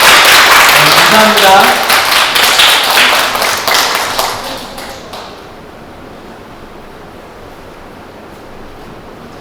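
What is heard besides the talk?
audience applause for the president and vice president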